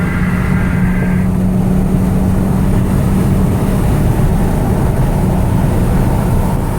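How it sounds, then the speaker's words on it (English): Steady turbocharged engine drone and whoosh from a Volkswagen GTI MkV with an APR Stage K04 turbo, cruising at highway speed in sixth gear, loud and continuous with a brief higher whistle near the start. "I just want you to hear that turbo again"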